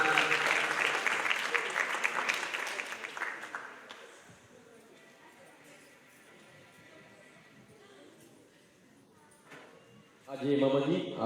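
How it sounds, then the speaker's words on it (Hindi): Audience applause at a Diwali celebration, a dense burst of clapping for the first few seconds that fades away, followed by quiet murmur and a short loud flurry near the end. "जोरदार तालियों बजाकर धन्यवाद देते हैं।"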